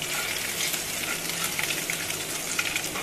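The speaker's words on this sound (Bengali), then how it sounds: "রসুনটাকে একটু নাড়িয়ে দেবো তেলের সঙ্গে।" Garlic fries in hot oil in a pan, giving a bright, continuous crackling sizzle with light stirring, close and steady, with no talking.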